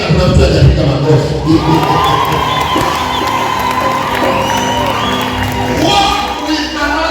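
A loud church crowd at a sermon cheering, whooping and shouting together in a dense, continuous roar with scattered clapping mixed in.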